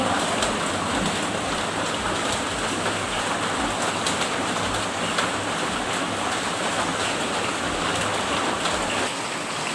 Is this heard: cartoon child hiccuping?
no